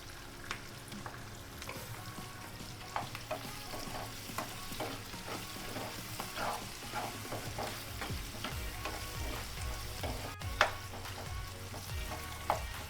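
Chopped onions with salt frying in a pan, a low, even sizzle under repeated scraping and clattering spatula strokes spread across the whole stretch.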